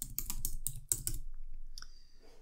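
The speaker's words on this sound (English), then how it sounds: "So let's type in integrity" Rapid keystrokes on a computer keyboard, a quick burst of close clicks for about a second, then a few scattered taps fading into quiet room noise.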